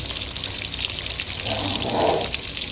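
Fish fry in a pan with a steady, fairly loud sizzling hiss throughout, swelling slightly toward the end, with no talking.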